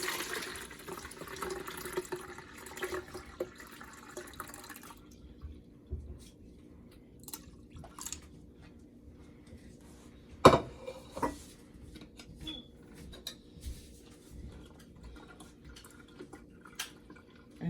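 Homemade Jamaican sorrel juice, boiled with ginger and clove, is poured into a container, with a soft liquid trickle and scattered drips and small clinks, fairly quiet and close, with no talk.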